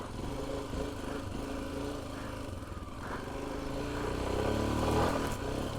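A Royal Enfield Himalayan 411 motorcycle climbs a hill in first gear, its engine droning steadily at moderate distance and swelling slightly louder near the end, with no voices.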